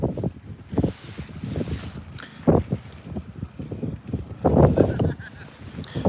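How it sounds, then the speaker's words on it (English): Gusty wind buffets the microphone in repeated low rumbling bursts, loud and uneven, with a faint honk somewhere in the background, outdoors at a junior cyclocross race in South Shields. "Sorry about the wind if you can't hear me very well."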